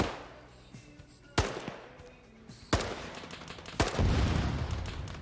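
Gunfire from a first-person shooter video game cracks out in three sharp, loud shots spaced about a second apart, followed by a denser rattle of fire over quieter background noise.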